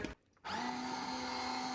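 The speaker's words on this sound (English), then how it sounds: "We're going to just mix them up really quick with this blender." An immersion blender whirs up to a steady high-pitched motor whine as it purees vegetables in a pot of lentil soup, after a short quiet start, close and continuous.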